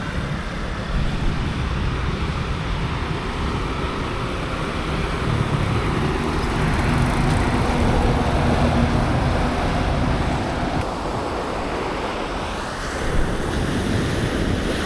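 Ocean waves wash steadily onto a beach in a continuous, loud roar of surf, with wind buffeting the microphone throughout and no voices.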